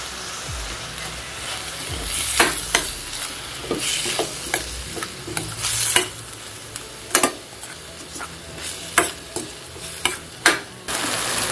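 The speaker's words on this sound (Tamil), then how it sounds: "தக்காளி நல்லா வதங்கிடுச்சு," Tomatoes sautéing in a pan for Kerala-style kadala curry, a steady sizzle with repeated sharp clinks and scrapes of a spoon stirring, no talking.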